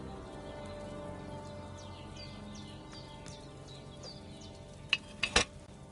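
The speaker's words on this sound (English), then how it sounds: "Hear that bubbling? It's boiling." A potion cauldron bubbles and boils over a fire in the medieval video game Kingdom Come Deliverance 2, a faint, steady simmering crackle with a few sharper pops near the end.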